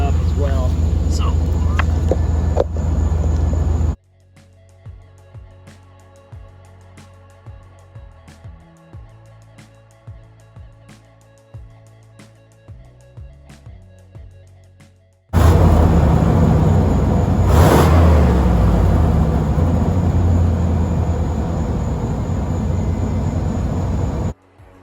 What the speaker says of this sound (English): I'm gonna rev it up because usually it'll do it when I rev it up as well.